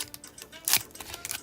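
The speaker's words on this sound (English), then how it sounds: "Snipping that." Scissors snip open a Pokemon booster pack's foil wrapper in a card shop, a few quick crisp cuts with one louder snip in the middle, close and fairly quiet.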